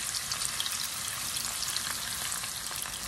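Onions and green chilies frying in a pan give a steady, close sizzle with soft crackling, continuous throughout with no talking.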